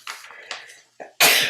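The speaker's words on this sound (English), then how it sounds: "my allergies are going insane, so I might be sneezing all through the lecture" A few soft breathy inhales build up, then one sharp, loud sneeze bursts out close by at the end.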